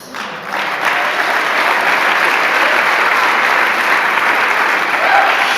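An audience applauds during a Speaker Hall of Fame acceptance speech: dense, loud clapping starts abruptly and holds steady for several seconds with no talk over it.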